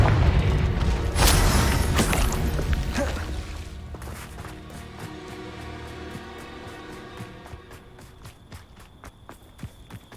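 A fiery Confringo blast spell from the Hogwarts Legacy game erupts loud and broadband, followed by rattling, clattering impacts and footstep-like thuds that gradually fade over the scene.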